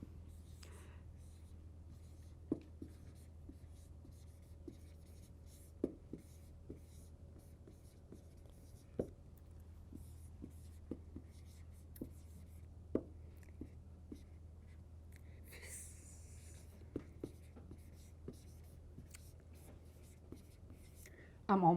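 Someone writing Inuit syllabics by hand: faint, irregular scratches and taps of a pen on paper over a low steady hum, with quiet speech and whispering at times.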